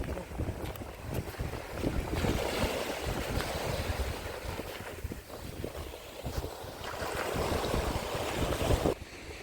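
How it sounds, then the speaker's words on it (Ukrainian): Rough winter sea surf at Odesa on the Black Sea, a continuous broadband wash of breaking waves with heavy wind buffeting on the microphone, loud and steady throughout. "Уявіть ці хвилі, да? потужність."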